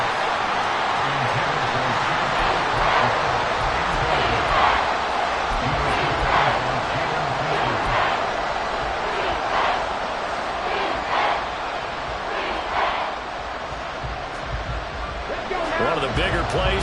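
A Madden 23 stadium crowd roars steadily and loudly through a big third-down moment in the football game, a dense sustained cheer with swelling waves and no clear pauses.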